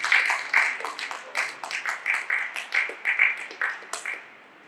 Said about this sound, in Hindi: आइए हम जोर से प्रभु यीशु मसीह को ताली बजाएं और धन्यवाद करें।